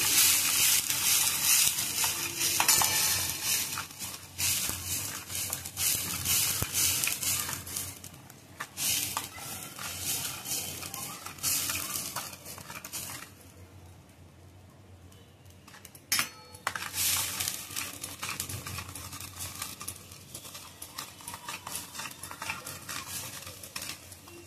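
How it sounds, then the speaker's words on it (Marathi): Grated coconut, onion, ginger and garlic cook in a pan for a dragon stalk yam dish, with steady stirring scrapes and utensil clinks against the metal over a soft sizzle, fading briefly before the scraping resumes. "खोबरं, कांदा, खोबरं, आलं, लसूण छान शिजलेलं आहे."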